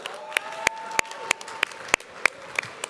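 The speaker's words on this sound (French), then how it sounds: "On peut les applaudir." Sparse applause from a small audience at a French entrepreneurial challenge, about eight sharp separate claps spaced roughly a third of a second apart over a faint background murmur and low hum.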